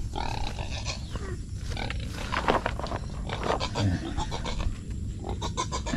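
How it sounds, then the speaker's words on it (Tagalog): Native pigs grunt and squeal noisily nearby, rough bursts of animal calls overlapping in an irregular, restless chorus. "Yan, pasensya na sa mga baboy mga kapangil, no? Maingay, mga native na baboy natin."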